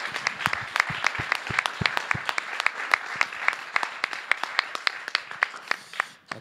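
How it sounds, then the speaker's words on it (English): Audience applause after a talk by M1 of dead prez, with distinct individual claps standing out over a moderate crowd, continuing steadily before tapering off at the end. "Round of applause for M1, Simone Seyfak"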